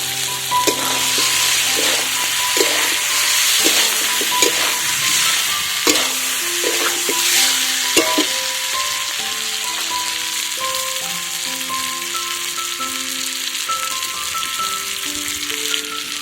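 Boiled, peeled potatoes fry in a spiced masala for an egg and potato curry, a steady sizzle with repeated stirring and scraping clatters through the pan, close and fairly loud, with no talk.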